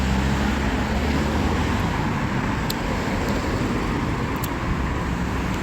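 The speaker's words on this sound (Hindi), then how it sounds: "और इस रोड पे ना काफ़ी ट्रैफिक होती है" Road traffic as a steady, dense roar of passing vehicles, continuous and moderately loud, with no talk.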